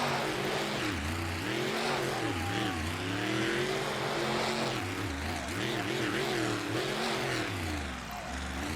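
A custom monster truck revs hard through a freestyle run, the engine loud and close with continuous roaring that rises and falls as it spins, launches over logs and climbs obstacles.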